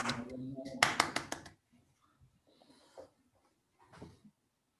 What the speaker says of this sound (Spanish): Laura es moderna y aplaude con una manito.